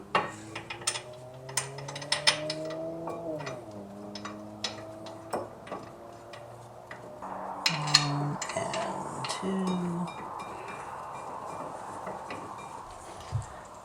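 A ratchet ratchets repeatedly as a wrench tightens an Akebono brake caliper bracket on a 1999 Jeep WJ during a Teves-to-Akebono brake swap, with close, rapid clicking runs broken by a few metallic knocks.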